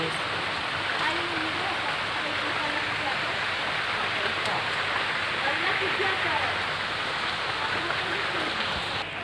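Heavy rain pours down steadily outdoors during a morning breakfast, a dense, even hiss that stays loud and unbroken throughout, with faint voices mixed in.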